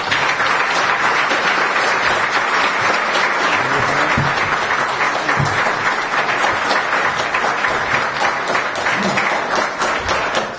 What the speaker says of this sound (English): let's go ahead and give all our candidates a round of applause